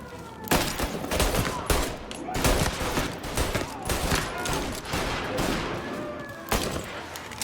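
Sustained gunfire from a shootout in Mafia: Definitive Edition, with dense overlapping shots and bursts forming a near-continuous loud fusillade for several seconds, some sharper close reports standing out.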